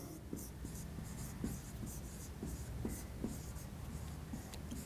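Chalk or marker strokes on a board during a maths lesson on hyperbolas, a steady run of short scratchy taps and squeaks, close and fairly quiet, with no talking.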